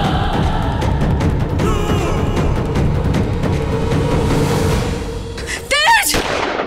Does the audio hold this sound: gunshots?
yes